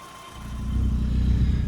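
A classic car with freshly tuned engine now on SAE 40 weight oil pulls away, its low engine note rising and growing louder over about two seconds, with no talk.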